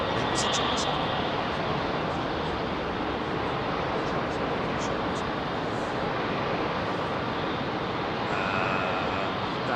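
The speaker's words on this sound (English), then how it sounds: "Dreamliner just touched down" A Boeing 787 Dreamliner touches down at London Heathrow, heard as a broad, steady roar of engines and rushing air holding for the whole stretch, with faint voices chatting underneath.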